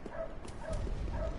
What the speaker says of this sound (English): I hope the Ojo doesn't hear the dog.